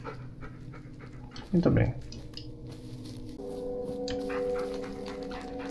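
In the video game Blair Witch, a dog pants and whimpers in a brief close burst, followed by a steady low hum, while someone speaks briefly.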